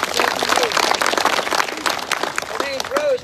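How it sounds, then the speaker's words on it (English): Scattered audience clapping for a singer at a Third Fret Harmony show, steady but thin, with voices chattering and whooping over it throughout. "give her a round of applause"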